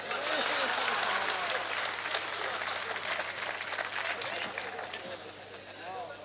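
Audience clapping at a Hindi mushaira poetry recital in Sanawad, a broad wash of applause that swells early and stays steady, with a voice speaking over it.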